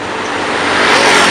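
A car rolls up on a roadway, its broadband engine and tyre noise swelling steadily louder as it approaches over a second or so, with no voices over it.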